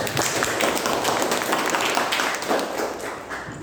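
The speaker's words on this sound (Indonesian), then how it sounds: "tepuk tangan dulu untuk Pak Rida" A classroom audience claps together for Pak Rida, a dense, steady burst of many hands lasting a few seconds, close and fairly loud, with no talking over it.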